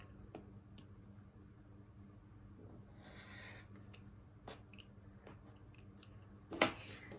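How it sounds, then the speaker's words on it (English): Scissors trim the excess fabric off a quilt's half square triangle, giving quiet, sparse snips and rustles in a hushed room with one sharper cut near the end. "and then I can trim off the rest"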